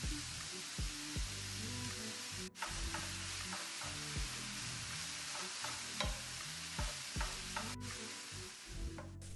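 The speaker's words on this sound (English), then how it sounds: "now we're going to put the sausage in. We want this on medium-high." Sausage frying in a pan on medium-high heat without added oil, a steady close sizzle running throughout with intermittent scrapes and clicks from stirring.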